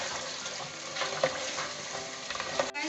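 Lahori-style paya (trotters) sizzle and fry steadily in a pot as they are stirred, with occasional small pops and a clatter near the end.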